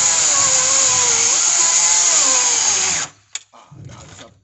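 A DeWalt FlexVolt 54V battery chainsaw with a 20 inch bar cuts under load, a loud steady high whine whose pitch sags and recovers as it bogs, then stops abruptly, followed by brief clunks and quiet handling.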